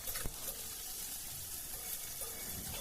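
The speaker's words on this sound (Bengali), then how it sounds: "সেটিকে দিয়ে এটা পুরো সব সমেত একটু ভাজা ভাজা করে নেব" Tomato and vegetables fry in a pan, a soft continuous sizzle at low level with a brief clatter near the start.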